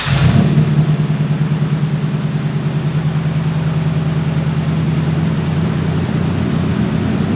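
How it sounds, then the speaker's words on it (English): A Nissan 240SX engine running on old, stale fuel, loud and close, a steady mid-pitched idle hum that holds even and unbroken from start to finish with no audible misfire. "It fired right up."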